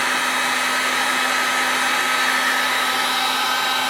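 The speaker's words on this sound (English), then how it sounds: "Move your heat gun around." A heat gun blows hot air onto heat shrink tubing with a steady, close, even whoosh and hum that stays constant throughout, with no talking.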